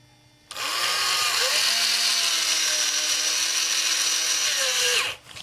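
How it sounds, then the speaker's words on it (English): A power drill bores a hole for a homemade microphone spider mount, a loud continuous whine that starts abruptly, dips in pitch as it bites, holds steady for several seconds and then winds down. "I'm going to drill a hole right there."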